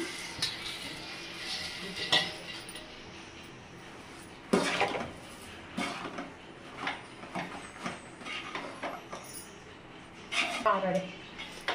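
Roasted peanuts tumble into a pan and are stirred, giving scattered rattles and scraping clatters at a moderate distance, with a voice talking between the sounds.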